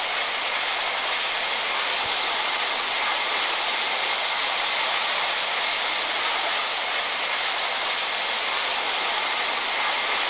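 Jet airliner engines roaring at full thrust during takeoff in Real Flight Simulator, a steady loud broadband rush that holds evenly throughout with no voices.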